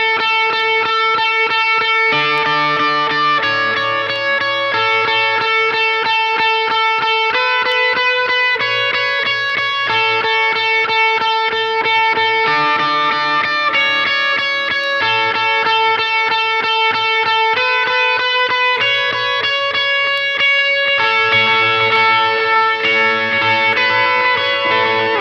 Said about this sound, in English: Okay, with the delay on, it sounds like this.